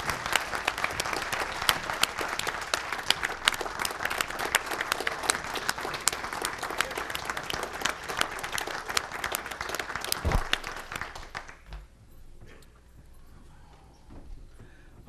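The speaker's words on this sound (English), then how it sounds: "One more round of applause for both of our gentlemen leaving tonight." A roomful of people at a city council meeting clap steadily for about eleven seconds in a dense, even round of applause, which then tapers off into quiet room noise and a few shuffles.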